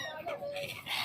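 Siberian migratory birds at the Sangam in Prayagraj call in a brief flurry of high, thin cries from a flock nearby, one drawn-out note standing out over faint chatter.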